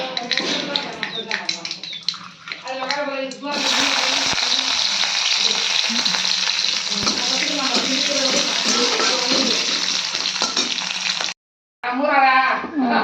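Dal tadka tempering hisses as a loud, steady broadband sizzle for most of the stretch in a home kitchen, cutting off briefly near the end, with someone talking before and after it.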